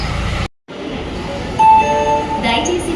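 A train pulls in and stops at a railway platform at an Indian station, its rolling rumble steady and fairly loud after a brief cut, with a tonal squeal or horn-like whine rising midway.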